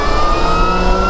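A Dirt Goat electric dirt bike accelerates with a loud, close, steady electric motor whine, holding sustained high tones across a brief moment.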